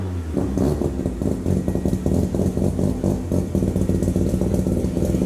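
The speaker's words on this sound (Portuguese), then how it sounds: "O som do motor rotativo, sibilante, crescente e agudo, não se parecia com nada no mercado" A Mazda RX-7 rotary engine revs hard and continuously, loud and close by, its rough throbbing note pulsing as the throttle rises and falls.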